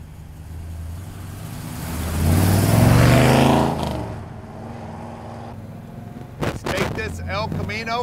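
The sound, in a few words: 1969 Chevrolet El Camino big block engine driving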